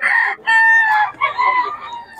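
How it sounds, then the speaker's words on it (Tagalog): A Boston Roundhead gamefowl rooster crows loudly and close by at a market, giving two or three strained crowing phrases in quick succession. "Boss Kari, magkano pulot mo? 3K. Bloodline. Boston Roundhead, mga idol"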